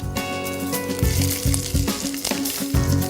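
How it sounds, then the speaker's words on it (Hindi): Ginger and garlic sizzle and fry in hot oil with curry leaves, a steady loud crackle broken by rhythmic stirring scrapes, close up with no talking. "इसको हल्का सा फ्राई कर लें, अदरक, लहसुन और बाकी चीज़ों को।"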